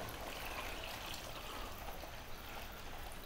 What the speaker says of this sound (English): We're going to Put quite a lot of water in there.